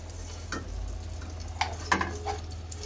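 Ghee sizzles in a pan already used for cooking, a soft continuous hiss under a few clinks and scrapes of a utensil, with brief louder bursts near the end and no voices.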